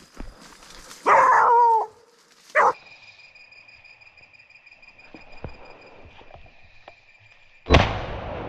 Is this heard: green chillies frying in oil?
no